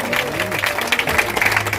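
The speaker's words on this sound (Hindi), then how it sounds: "जोरदार तालियों से स्वागत कीजिए।" An audience applauds to welcome guests at a ceremony attended by a Bihar state minister, a dense crowd clapping heard with voices over it.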